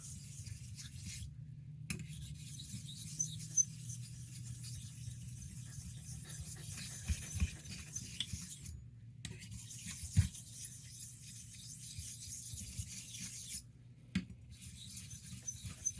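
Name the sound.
straight razor honing in circles on 1k Chosera whetstone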